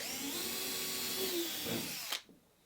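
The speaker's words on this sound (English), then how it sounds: "I'm just going to pre-drill from the inside." Power drill whirring steadily as it pre-drills holes through the laps of wooden boat planks on a Catalina Wherry build, a close continuous drone that ends abruptly with a short burst and then quiet.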